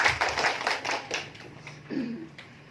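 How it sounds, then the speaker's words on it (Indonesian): A classroom of students claps hands together during a peer-teaching lesson, a brief burst of fairly faint clapping that thins out as a voice speaks. "Bagus, tepuk tangan untuk kita semua ya."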